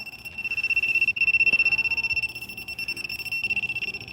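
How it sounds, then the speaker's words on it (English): A hidden camera detector sounds a steady, loud high-pitched electronic beeping in rapid pulses, near and continuous, with no talk over it. "this detector, it shouldn't be going off"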